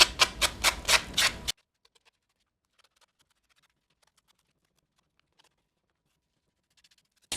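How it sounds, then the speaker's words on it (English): A sanding block rubs down the edges of paper for a magnet calendar craft, giving about six quick, close scratchy strokes in the first second and a half, followed by near silence. "you can take your sanding block and just kind of sand that down"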